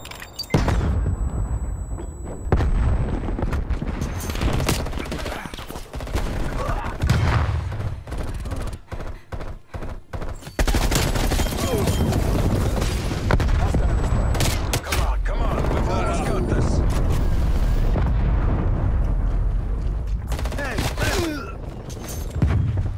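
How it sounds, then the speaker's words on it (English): C4 charges and flashbangs go off in the shooter Call of Duty: Black Ops Cold War, loud blasts amid heavy rapid gunfire and chaotic battle noise, with voices talking over the action. "C4. Flashbang going out."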